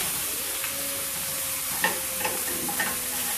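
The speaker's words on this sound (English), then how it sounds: "Oh, hear it sizzle?" A steady frying sizzle of taco meat in a pan, with a few light spatula clicks and scrapes rising above the hiss.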